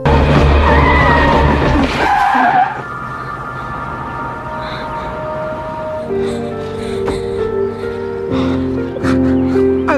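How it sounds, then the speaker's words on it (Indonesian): A car's tires screech sharply for a couple of seconds amid loud, busy noise, followed by dramatic music. "Terlihat sebuah mobil melaju kencang ke arah Annette."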